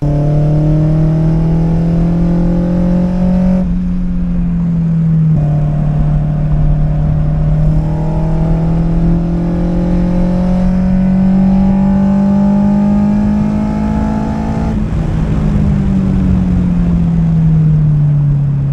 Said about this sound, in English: since we're at a racetrack, let's take it for a few hot laps and see what it sounds like